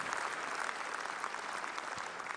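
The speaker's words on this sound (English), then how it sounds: "we would do well to appreciate her with a thunderous round of applause" A congregation at a service of songs for Mrs. Hilda Victoria Joanne Adefarasin applauds, a steady, dense wash of clapping from many hands throughout, somewhat distant and even in level.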